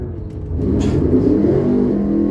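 A race car that is running rough revs hard on the Mason-Dixon track during a gambler's race weekend, a loud, close engine roar that climbs and holds with a whirring edge.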